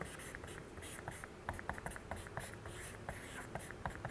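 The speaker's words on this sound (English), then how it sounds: "So I'm going to write 人山人海." Pen scratching out Chinese characters, a steady close stream of quick strokes and taps on paper, with no talking.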